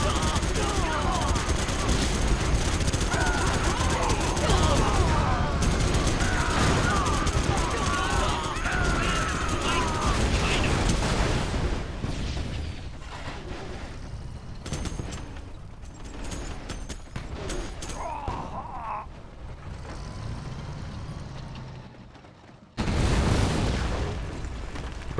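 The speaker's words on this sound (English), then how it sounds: "But it's a massive infantry battle here right now." Dense gunfire, machine-gun bursts and booming explosions roll through a massive infantry battle in the real-time strategy game Generals Evolution, loud and continuous, briefly dropping to near silence before resuming.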